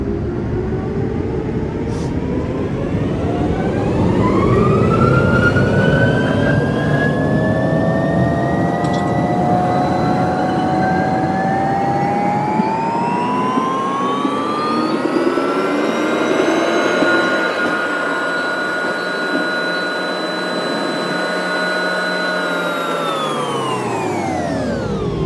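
Singapore Airlines Boeing 787 jet engines spool up for takeoff, a loud sustained roar with a rising whine that climbs steadily in pitch and then holds, heard from inside the cabin with no talking.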